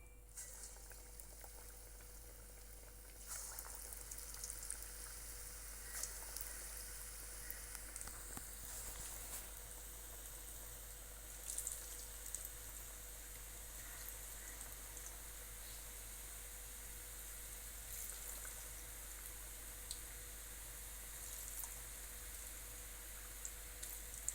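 Chayote (chow chow) bondas deep-frying in hot oil, giving a steady, dense bubbling sizzle that runs unbroken for the whole stretch at an even level, with no voices.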